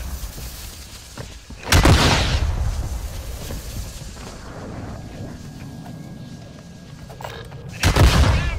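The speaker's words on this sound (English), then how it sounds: "Why are we shooting RPGs in here?" Two loud, broadband blasts of RPG rockets fired in a video game, one a little before the two-second mark and another near the end, each with a booming low rumble. A steady murky background hum fills the gap between them.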